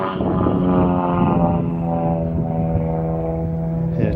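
An aerobatic airplane drones overhead at an airshow with a steady, loud harmonic engine tone that wavers slightly in pitch, heard from an open parking area.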